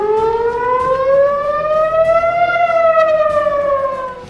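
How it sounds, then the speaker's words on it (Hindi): Civil defense air raid siren sounding across Israel during a missile attack, a single loud continuous wail whose pitch slowly rises and then eases down over several seconds, with no voices. "पूरे इजराइल में हवाई हमले के सायरन बजने लगे।"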